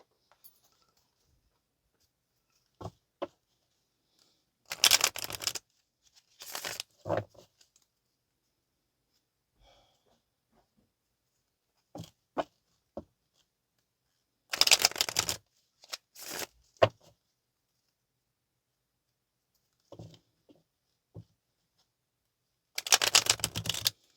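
Wild Unknown tarot cards being shuffled in several separate bursts with quiet pauses in between, crisp riffling close by and no talking.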